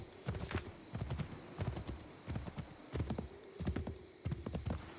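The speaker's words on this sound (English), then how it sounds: "Looks like I'm gonna have to jump off this horse." Horse hooves clip-clop rapidly at a gallop in the video game Assassin's Creed 3, a steady repeating rhythm with a faint whinny under low background hum.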